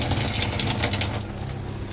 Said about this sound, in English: Pull this up, and you got your water shower there